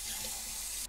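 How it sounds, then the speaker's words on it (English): Tap water runs steadily into a sink while a whole chicken is rinsed for Korean dak gomtang soup, a constant hissing splash heard alone, close and fairly quiet. "So what we wanna do is rinse this under water and get all of this out."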